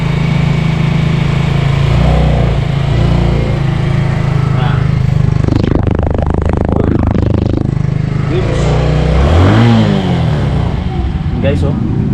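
A 2025 Suzuki Smash 115 motorcycle idles quietly with a steady low hum, while someone talks over it throughout.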